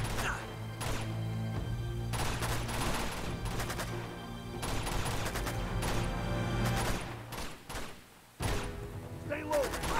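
Sustained gunfire in Uncharted 2, loud rapid bursts of shots and impacts that keep overlapping, with brief gaps between volleys and occasional shouted voices mixed in.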